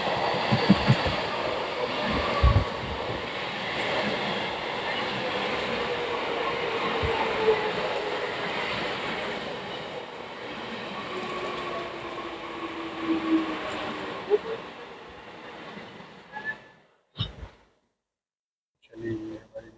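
Passenger train from Lokmanya Tilak Terminus toward Prayagraj rolling along the rails near Kalyan, a long steady rumble with faint wheel squeal, then fading and cutting to near silence at the end.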